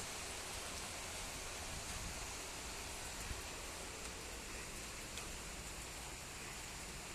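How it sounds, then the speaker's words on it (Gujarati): Rain starting to fall in Ahmedabad, a faint, even hiss of drops spreading across outdoor surfaces, steady and continuous throughout, with no voices. "ચાલુ થઈ ગયો છે ટૂંક સમય બહુ વરસાદ આવશે"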